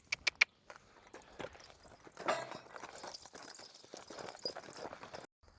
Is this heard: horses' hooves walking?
yes